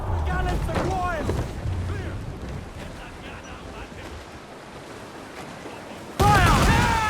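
Ship cannons boom in a naval battle in Assassin's Creed 4 Black Flag, heavy blasts mixed with shouted crew commands, creaking ship noise and sea wash, with a louder burst near the end.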